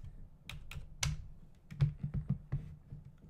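A computer keyboard used to type a name into the old Access Software game Echelon: a quick, irregular run of close, crisp keystrokes with no talking.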